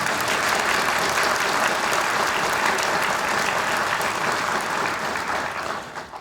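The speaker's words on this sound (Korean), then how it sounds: "제가 당부드리는데 여러분 호응의 박수 한번 해주시기 바랍니다." Sustained applause from an audience at a Korean Ministry of Justice address, a dense, loud clatter of clapping that carries on for several seconds before tapering at the end.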